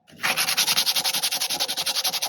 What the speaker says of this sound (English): we're going to lightly go over it with the sandpaper